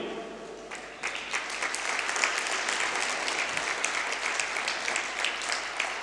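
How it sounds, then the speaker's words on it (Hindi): Applause from a youth conference audience greeting a sports minister, a dense wash of many hands clapping that starts softly and swells after a second into steady sustained clapping in a hall, close and moderately loud. "तालियां कम हैं।"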